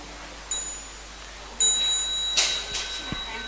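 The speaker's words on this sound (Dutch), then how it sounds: "bij het geluid van het kleine belletje sta dan op" A small bell at a Buddhist dharma gathering at EIAB, a few thin, clear rings with a bright sustained tone, one stronger strike, faint and close in a quiet hall.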